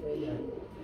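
A pigeon coos in a short, low, soft burr, close by and brief, among a collection of pet pigeons.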